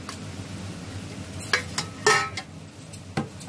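A spoon stirs chopped onion through a pan with a faint sizzle beneath, giving a few distinct scraping clinks against the metal spaced across a quiet, steady background.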